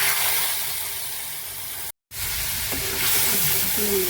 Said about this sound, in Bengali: ধোকা ভাজা তেলের মধ্যে এবার এই মশলাটা ছেড়ে দেবো।